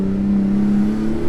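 A 2019 Porsche 911 GT2 RS Weissach Package with its 700 hp twin-turbo engine gives a short, steady droning roar, held at a constant pitch at close range with no talk.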